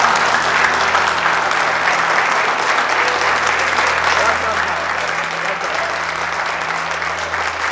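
Steady, loud clapping from a crowd at a rally celebration, dense and continuous throughout without a break.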